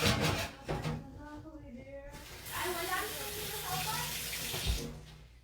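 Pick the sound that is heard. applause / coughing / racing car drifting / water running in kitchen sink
water running in kitchen sink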